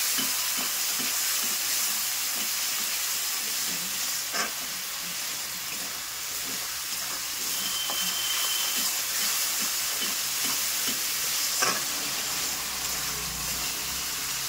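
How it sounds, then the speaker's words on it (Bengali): Masala for a chana dish fries on a high flame, giving a steady hissing sizzle with regular spatula taps and stirs against the pan over a long stretch, no talking. "হাই ফ্লেমের মধ্যে এই মশলাটা আমি করছি"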